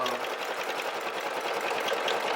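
A Brother SE1900 embroidery machine stitches a flower design, its needle running in a fast, steady mechanical chatter that stays close and even throughout with no voices.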